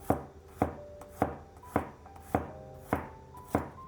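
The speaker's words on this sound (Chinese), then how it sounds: "先给它切成片" Knife slicing peeled garlic cloves on a cutting board, seven crisp, evenly spaced chops at a steady rhythm, close and fairly loud with no talking.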